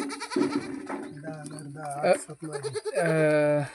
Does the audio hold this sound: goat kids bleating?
yes